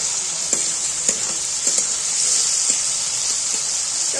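Capsicum and tomato frying in a pan, a bright continuous sizzle with a few sharp taps and scrapes from stirring, loud and close.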